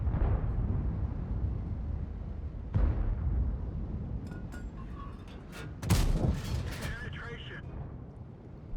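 A tank cannon fires a HEAT shell in the World of Tanks video game, an E50M tank, heard as a heavy boom, followed by a sharp crack and clattering metallic impact noises over a steady engine rumble.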